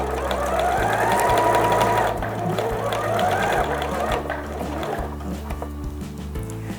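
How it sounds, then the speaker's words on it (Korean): A sewing machine stitches thick lace onto a hairband, running with a steady, fairly loud mechanical chatter that pauses and restarts as the lace is guided along. "이렇게 굵은 레이스 같은 경우는 한 줄만 박기보다는 양쪽으로 박아주셔야지 레이스가 튼튼하게 고정이 됩니다"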